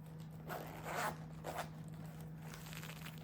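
A zipper slides open on the back pocket of a natural leather unisex multicolour shoulder waist bag: quiet, close, scratchy bursts with a few short pulls, each a grainy rasp, and no talking.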